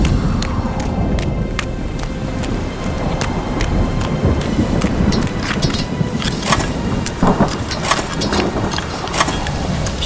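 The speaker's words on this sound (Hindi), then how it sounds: "बारिश शुरू हो गई।" A thunderstorm as rain begins, with steady loud rainfall and scattered sharp drops and crackles throughout, and low rumbling underneath.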